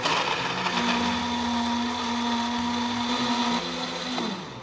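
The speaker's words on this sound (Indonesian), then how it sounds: "Lalu kita akan blender dulu ya." A blender grinds red chilies and spices with a little water, a steady high-pitched motor whine with a loaded grinding tone that holds for several seconds and then winds down near the end.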